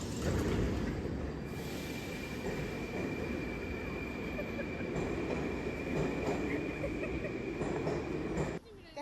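Inside a moving metro train, a steady loud rumble and rolling roar with a faint high wheel whine persist throughout, ending in an abrupt drop near the close.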